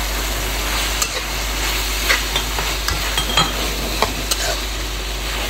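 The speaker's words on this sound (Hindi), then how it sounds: "कैरेट में वो फ्राई हो गए।" Carrots frying in a hot pan, giving a loud, steady sizzle up close with occasional light clinks and stirs of a utensil against the pan, and no voices.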